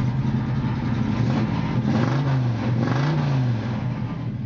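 A 1979 Chevrolet pickup's 383 cubic inch V8 runs steadily nearby with a deep rumbling idle, rising briefly in a gentle rev before settling again; no voices.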